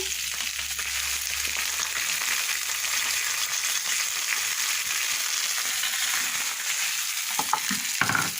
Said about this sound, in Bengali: পেঁয়াজ কুচি দিয়ে দিলাম সরিষার তেল দিয়ে দিলাম এটা একটু ভেজে নেবো